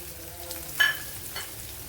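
Cut garlic cloves and chopped ginger fry in a pan for a Kerala soya chunks curry, a soft, steady sizzle with a brief clink of a utensil partway through.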